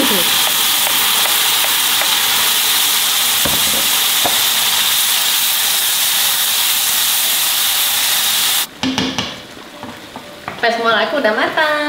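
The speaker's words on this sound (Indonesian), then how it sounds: "kita goreng cabe buat goreng kentang kita ya." Chili peppers frying in a pan give a loud, steady sizzle and hiss that fills most of the clip. It then cuts off abruptly, followed by stirring clatter and brief kitchen sounds, close by.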